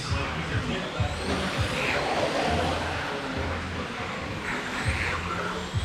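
Race cars at speed on a track during an A-Main race, a continuous engine roar with pitch swells as cars pass, under an excited commentator's voice.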